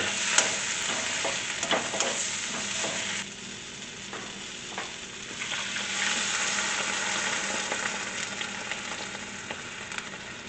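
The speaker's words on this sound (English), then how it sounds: "Now we're gonna mix and stir all of these together" Scraping and stirring chicken tikka masala ingredients in a sizzling pan, with soft clinks over a continuous frying hiss, close up and with no voices.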